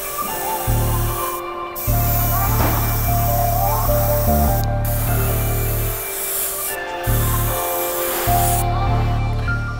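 Airbrush spraying opaque yellow paint mixed with a little red onto the toe box of a worn Air Jordan 1 sneaker, a steady close hiss broken by several brief pauses.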